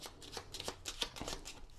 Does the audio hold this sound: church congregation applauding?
no